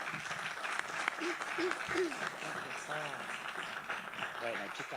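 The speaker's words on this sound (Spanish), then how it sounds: "Con ustedes, las profesoras, para quienes les pido un aplauso." Audience applause for two professors introduced at a communication and media course session, steady clapping throughout with people talking over it.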